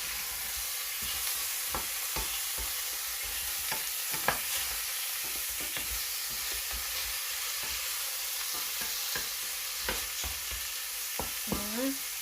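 Meat bones frying in oil in a pot, a continuous soft sizzle punctuated by scraping knocks of a utensil stirring, fairly quiet and close, with no talk.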